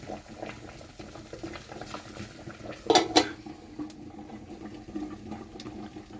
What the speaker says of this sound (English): And because the fire is a bit high, so the water boiling very hot.